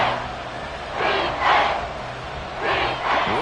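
Football stadium crowd roaring late in the fourth quarter of a one-score game, a broad sustained cheer that swells in several loud surges, heard from within the stands.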